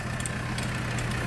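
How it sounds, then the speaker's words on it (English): A tractor trailer's diesel engine idles steadily while a backhoe is unloaded on a snowy day, giving a constant low rumble with faint higher clanks at a moderate distance and no speech. "they got a tractor trailer with a backhoe here?"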